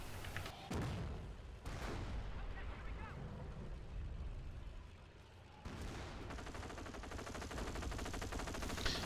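Machine gun nests fire in a World War II video game, with sustained rapid automatic gunfire and explosive bursts filling the clip, while someone talks over the din.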